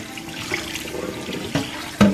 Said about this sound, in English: Add some more water on it.